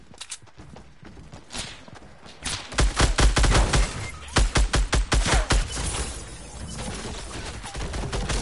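Rapid gunfire in a first-person shooter match, with a loud cluster of evenly spaced shots in the middle and sparse cracks before and after, close and prominent.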